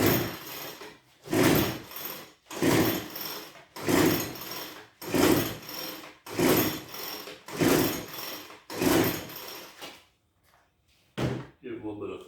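A backpack leaf blower that would not start is pull-started by hand, with eight close, loud, evenly spaced cord pulls, each a rasping whir, followed by a short pause and one last brief pull.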